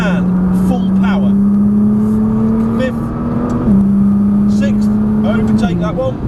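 A Nissan GT-R on a track day accelerates at full power: a loud, steady engine drone climbs in pitch, drops at a gear change and climbs again, with an instructor's voice over it.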